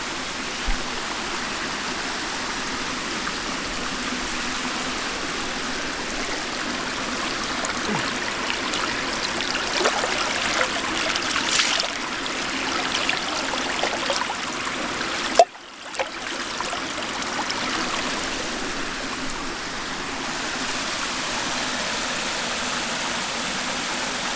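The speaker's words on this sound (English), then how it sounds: "Run over to the stream and get some water for coffee." A stream flows steadily and close by, a continuous rushing and trickling of water that continues throughout, briefly interrupted once.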